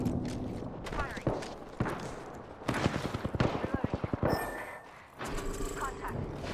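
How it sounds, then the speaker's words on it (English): Gunfire in the Apex Legends video game comes as a fast burst of close, sharp automatic shots in the middle, with scattered single shots and game noise around it. "Firing."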